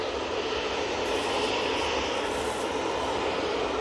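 A KLM airliner at Manchester Airport gives off a steady, broad jet roar at middle distance. It holds constant and unbroken throughout, with no voices over it.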